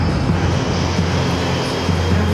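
An airliner flies over, its aircraft engines giving a loud, steady roar with a low drone throughout.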